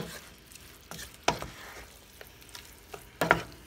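Paprika being stirred into Hungarian chicken paprikash, with a few sharp clinks and scrapes of a spoon against the pot over a quiet background sizzle, no talking.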